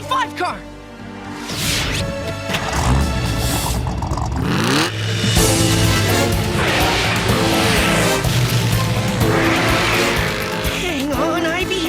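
A cartoon car revs and speeds along, its engine roaring loudly, with tire squeals and skids over continuous music while characters shout and talk.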